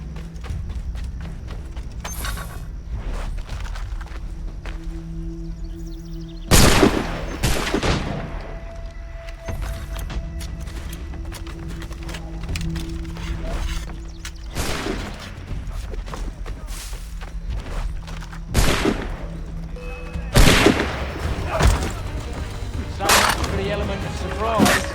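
Musket volleys ring out in Assassin's Creed III as several loud, sharp cracks spaced across a tense battle, mixed with hoofbeats, creaks and shouted voices.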